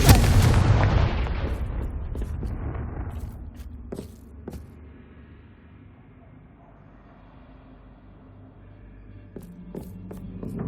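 A Confringo blasting-curse explosion in the Hogwarts Legacy game: one heavy, booming blast that opens loud and rolls away into a long fading rumble, with faint crackling debris and low ambience after.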